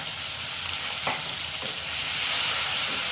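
Sun-dried fish from Cox's Bazar frying in a pan with onion, tomato and green chili: a loud, continuous close-up hiss of sizzling with a brief utensil clatter, swelling slightly toward the end, and no voices.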